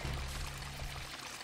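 Water poured into a container in Tomb Raider 4's Temple of Horus level, a steady, close splashing pour that runs the whole short moment without pause.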